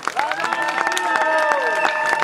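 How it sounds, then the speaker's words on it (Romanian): A village crowd claps and cheers for the mayor in a short burst of applause, with voices and cheering mixed into the clapping. "Aplauze pentru domn primar!"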